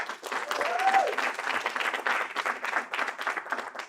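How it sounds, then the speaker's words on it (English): A panel-discussion audience gives a fairly quiet round of applause for the participants, dense clapping from a medium-sized crowd heard at a distance, with a short squeak of feedback or a voice early on. "Let's give a round of applause to our participants."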